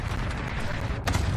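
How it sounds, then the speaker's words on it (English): A cluster strike in Warzone sets off heavy rumbling blasts, a dense low roar with a sharper crack about a second in, loud and close. "Cluster strike away."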